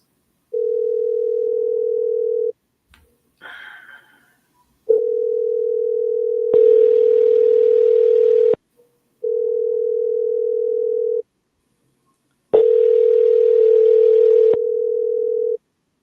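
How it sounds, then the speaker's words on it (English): Steady electronic telephone tone on a voicemail line, sounding in four long unbroken bursts separated by short gaps and a brief click, loud and clear with no voices. "At the tone, please record your message."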